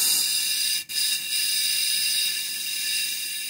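A steady, broad hiss of an airbrush spraying out water runs almost continuously, with one brief cut near the start before it resumes at an even level.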